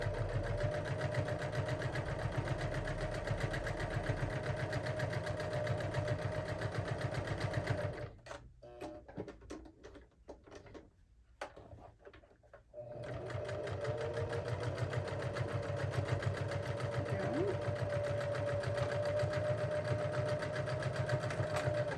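A sewing machine stitches a sew together bag in a steady, rapid mechanical whir, pausing briefly in the middle before running on loudly and continuously.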